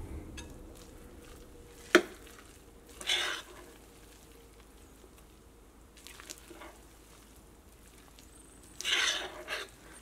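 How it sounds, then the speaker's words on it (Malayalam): Wheat flour batter with vegetables and crushed dried chilli is mixed in a bowl, heard as intermittent wet squishing bursts and a sharp utensil clink against the bowl, close and fairly quiet, no talk. "ഇനി നമുക്കിതെല്ലാം കൂടിയിട്ട് മിക്സ് ചെയ്യാം."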